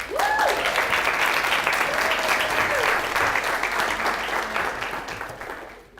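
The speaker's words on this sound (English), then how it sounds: "So if we could take this time to give them a round of applause." Audience applause at a festival talk, a full crowd clapping steadily and then thinning out toward the end, with faint voices mixed in.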